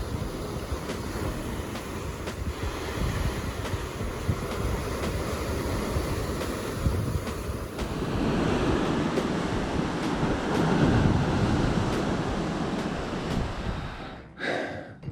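Waves crashing and surging against a rocky hurricane-swept coastline by sea caves and baths, a continuous rushing roar with wind buffeting the microphone, steady throughout with no voices.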